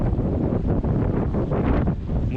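Strong wind roars and buffets the microphone steadily, a dense low rumble with gusty surges and no voices.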